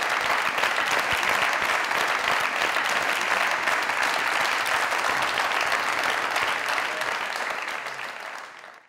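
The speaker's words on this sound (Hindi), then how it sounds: "जोरदार तालियां।" Loud, sustained applause from a studio audience at a Pakistani comedy talk show, steady dense clapping throughout that fades out near the end.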